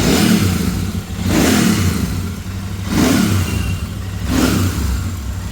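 A Harley-Davidson motorcycle engine revs up again and again in steady surges, each roar rising and falling over a constant low rumble, loud and close.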